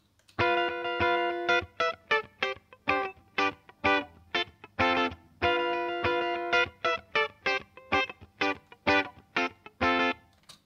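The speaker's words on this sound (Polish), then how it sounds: "Mikrofon wstęgowy natomiast brzmi tak." A guitar amp miked with a ribbon microphone plays a repeated phrase of held chords alternating with clipped, rhythmic stabs, slightly effected and roomy, close-up and alone without voices.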